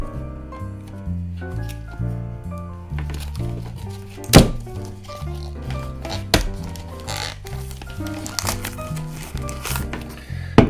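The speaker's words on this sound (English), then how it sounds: "There's a bit of fiddling with the plastic here, but the plastic rips relatively easily" Beer cans are pulled free from Carlsberg Snap Pack plastic packaging, with soft crinkling and fiddling, a few sharp thunks and clacks as cans knock together, and scattered handling noise close by.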